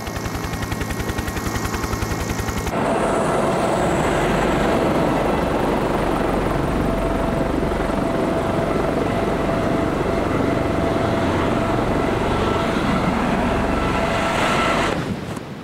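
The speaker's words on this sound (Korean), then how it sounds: "헬리콥터로 이동한 지 2시간." A helicopter in steady flight over the sea toward Mukojima in the Ogasawara Islands, a loud continuous rotor roar and engine drone that starts abruptly and holds at full level until fading slightly at the end.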